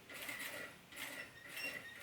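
A sewing machine runs in three short bursts as it stitches fabric bias binding on a small toothbrush holder, with a light mechanical whirr and clatter that is close and fairly quiet.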